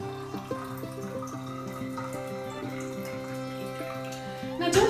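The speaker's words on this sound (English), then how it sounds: "So then I just pour it into my little watering can." Lukewarm saline water poured from a container into a small neti pot, a steady trickling splash that stays fairly even before a brief louder burst at the end.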